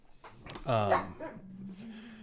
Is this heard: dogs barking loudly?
yes